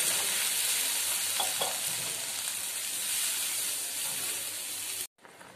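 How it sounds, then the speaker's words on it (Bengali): Water poured into a pan of fried spice paste for a Bengali pabda fish curry sets off a loud, steady sizzle and hiss with brief stirring scrapes, ending abruptly. "কষানো হয়ে গেছে, এবার জল অ্যাড করে দিচ্ছি।"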